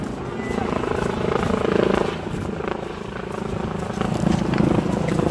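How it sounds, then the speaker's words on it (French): A helicopter hovers over Paris during a street protest, its steady, thrumming rotor drone filling the air continuously at a moderate distance. "il y a l'hélicoptère qui est là, en train de survoler"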